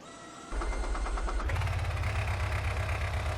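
A homemade, improved piston-powered combustion engine cranks over with quick, rising pulses, catches abruptly, then settles into a steady, loud, even idle with a low chugging rumble.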